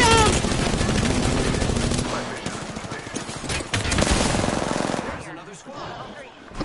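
Dense, rapid automatic gunfire rattles nonstop in a shooter video game firefight, loud and close, with shots and effects overlapping while players talk over the action.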